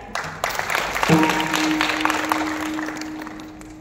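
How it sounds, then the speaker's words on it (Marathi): A short burst of clapping from a gathered crowd at a kirtan in Pandharpur, starting abruptly and fading out over a few seconds, with a sustained tone humming underneath. "महाराजांसाठी एकदा टाळ्या"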